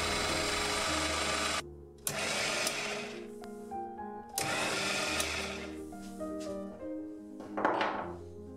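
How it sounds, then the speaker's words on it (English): A machine cuts a short quarter-20 tripod screw thread on a lightweight camera-mount shaft, giving loud, steady mechanical whirring in several bursts separated by brief pauses and thunks, with no talking. "cut the tripod thread using the same technique as before"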